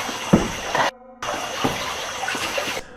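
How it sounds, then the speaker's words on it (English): Water splashes under a bridge at night, a broad rushing wash with a few sharper splashy bursts, close and fairly loud, broken by a brief gap and continuing alone. "soon followed by a splash of water, like something jumping at them"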